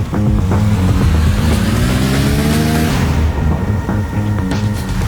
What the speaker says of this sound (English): It's got a blow-off valve, James. Turbocharged, baby.